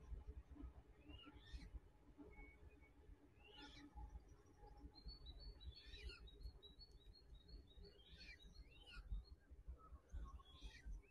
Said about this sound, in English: Various bird noises that I can't identify.